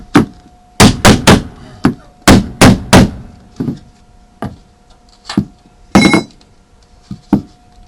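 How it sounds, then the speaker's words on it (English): A rubber mallet strikes metal while a solar hot water panel is being built, landing roughly a dozen loud, sharp, resonant blows in irregular bursts, some in quick groups of two or three and others spaced apart, with a faint steady hum underneath. "Ooh, rubber mallet. That works good."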